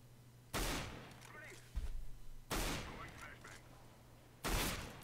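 Gunfire in Counter-Strike on the de_dust2 map, with three sharp bursts of shots spaced a couple of seconds apart over a low background hum.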